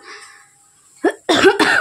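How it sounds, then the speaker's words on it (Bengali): A close, sharp cough, followed quickly by a louder pair of harsh coughs after a moment of quiet. "আর এই যে কাশি, আমার কাশিতে জীবনেও ছেড়ে যাবে না আমাকে।"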